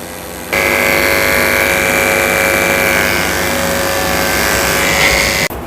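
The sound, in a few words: electric clippers with 30 blade shaving Goldendoodle's paw pads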